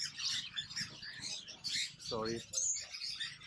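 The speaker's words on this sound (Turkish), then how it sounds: "Burada bayağı bir kuş var çünkü." Birds chirp and tweet throughout a busy exotic animal market in Bangkok, with overlapping high calls in the background and a brief spoken word over them.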